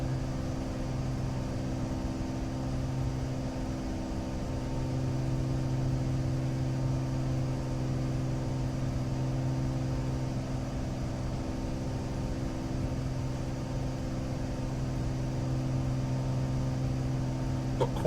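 In a flight simulator, the engine of a Cessna Corvalis 400 TT drones steadily as the plane climbs after takeoff, a constant loud hum with a strong low tone and no talking.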